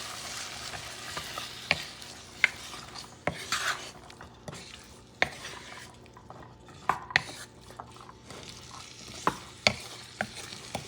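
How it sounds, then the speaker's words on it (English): Black-eyed peas are stirred into a sizzling stew base in a pot, with a low frying hiss under repeated sharp utensil clinks and scrapes at an irregular pace. "I'm going to mix everything together."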